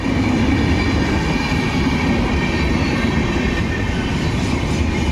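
A train hauled by a locomotive runs along a chord section, producing a loud, steady rumble of wheels and wagons with light rhythmic clatter throughout and no voices.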